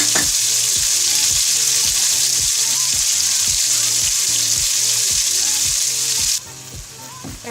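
Pork browning in a pan, a loud, steady close sizzle with a rhythmic pulsing undertone that suddenly drops to a quieter hiss near the end.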